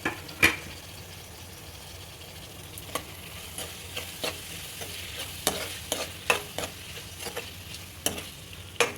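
Chopped tomatoes sizzle in a hot pan for a potato tomato curry, under a steady fry hiss broken by irregular scraping and clinking stirs of a utensil against the pan. The sound is close and there is no talking.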